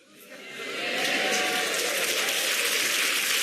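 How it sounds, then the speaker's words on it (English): Studio audience applause on a comedy panel show swells quickly to a loud, steady wash of clapping and cheering that holds to the end. "You'll do anything for applause, won't you?"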